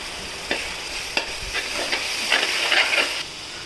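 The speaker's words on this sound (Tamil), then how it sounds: "தக்காளி வந்து வதங்கிடுச்சு" Blended tomatoes sautéing in a pan for a chicken dish: steady sizzling hiss with a few soft stirring clatters, close, no speech.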